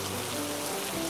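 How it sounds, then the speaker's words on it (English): Heavy afternoon rain pours down in a dense, steady, even hiss with no pauses and no voices. "Pouring down rain."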